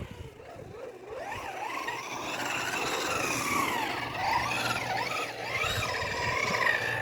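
A petrol-powered FG Leopard 12s RC car drives on grass, its small two-stroke engine buzzing steadily and rising and falling in pitch as it accelerates and slows, with no voices present.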